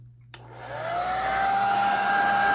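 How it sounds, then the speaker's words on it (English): A hair dryer set on high heat switches on after a brief moment of quiet and spins up into a loud, steady whine and rushing blow that holds to the end. "So I have the hair dryer set on high heat,"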